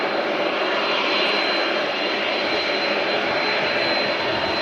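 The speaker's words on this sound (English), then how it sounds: "Angel of the Sky, the name on this TUI Dreamliner." Steady, loud roar of a TUI Boeing Dreamliner's jet engines at Manchester Airport, a continuous broadband rumble and whine with a thin high tone, filling the whole stretch without a break or voices.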